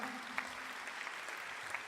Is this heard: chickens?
no